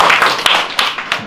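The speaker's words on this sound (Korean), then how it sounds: "박수 한번 줄까요?" Audience at a stage play clapping briefly, a few loud, distinct claps spaced unevenly over about a second, close and sharp.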